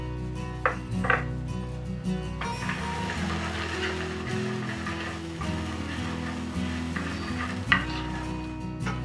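Finely chopped shallot sizzling in a pan for a tarragon cream sauce, a close steady fry with stirring scrapes and a couple of utensil knocks against the pan over a low tonal background hum.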